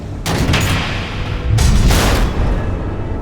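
Missiles launching and detonating in the Batman: The Telltale Series video game: two heavy booming blasts in quick succession, each a loud, broad burst with a rumbling tail.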